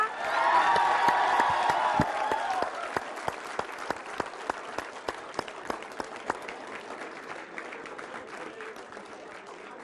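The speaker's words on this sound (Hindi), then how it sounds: "तो तालियों के साथ बहुत बहुत स्वागत" A studio audience applauds and cheers to welcome a comedian guest at a TV interview: loud crowd clapping and whoops at first, thinning to slower, distinct individual claps that fade over several seconds.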